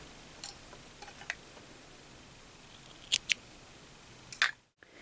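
Scissors snip off crocheted yarn ends, a few short, crisp clicks spaced across a quiet room, close and fairly soft.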